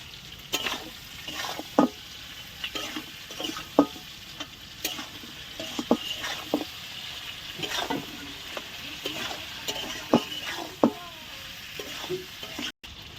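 Chicken skin curry with ginger garlic paste sautés in a pan for a village-style dish, a steady close sizzle broken by frequent scraping stirs of the spatula.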